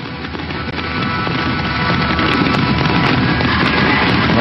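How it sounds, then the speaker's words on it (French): The New Year fireworks finale over Sydney harbour rolls on as a loud, continuous wall of crackling bursts and booms, heard from a distance and building slightly in intensity. "Alors que le bouquet final est parti sur le port de Sydney."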